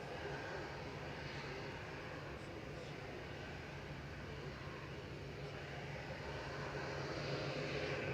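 Airliner at Manchester Airport producing a steady, broadband jet roar that holds at a constant level throughout, heard from a moderate distance with no voices over it.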